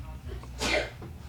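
A single sharp sneeze bursts out near the middle, close and fairly loud, against a quiet low background hum.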